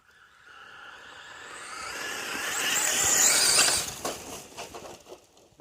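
Traxxas Sledge RC monster truck run, its motor whine building to a loud, high peak around the middle and then cutting out into rattling, clattering bursts.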